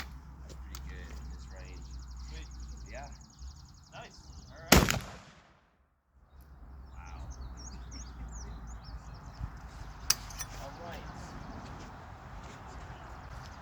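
A rifle being test fired outdoors gives one loud, sharp report about a third of the way in, followed by a brief lull, over a steady outdoor background with occasional faint chirps.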